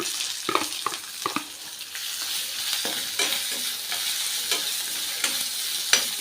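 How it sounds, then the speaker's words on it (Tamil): Onion and peanuts sautéing in a pan for ragi upma, a steady close sizzle broken by repeated scraping stirs of the spatula, with no talk. "லைட்டாக வதங்கினா போதும்"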